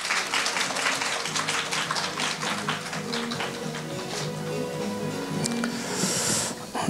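An audience at a lecture at a heritage conservation festival claps to welcome a history professor from Sunchon National University, with dense crisp claps and a faint tonal sound running underneath.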